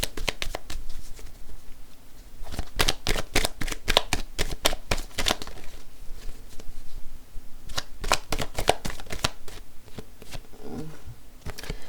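Tarot cards are shuffled and laid out by hand in quick rapid bursts of crisp flicking and slapping, pausing briefly between rounds, close and clear with no talk.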